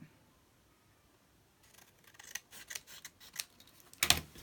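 Scissors snip through printed tracing paper in a few close, crisp cuts, ending with one louder sharp snip after a quiet start.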